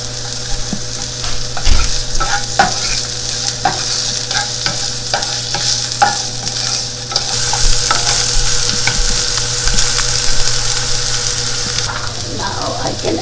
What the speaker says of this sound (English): I'm going to add some sliced onions, and I'll saute these also